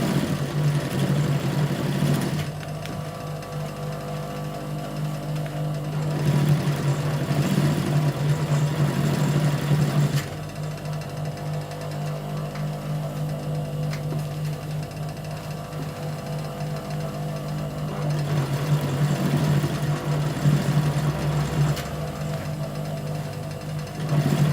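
A sewing machine runs steadily while stitching along the lace trim of a shalwar hem. It keeps a continuous mechanical hum throughout, with short pauses and restarts, and no talking.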